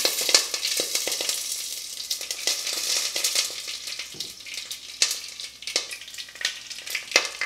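Curry leaves sizzle and crackle in hot oil over medium heat for a Kerala-style green bean thoran, a steady close frying hiss with sharp pops scattered throughout, no voices.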